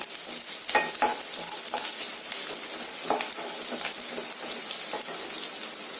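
Ginger, garlic, green chilies and curry leaves sauté in hot oil, a steady close sizzle with crackles and a few scraping stirs of the spoon, no voices.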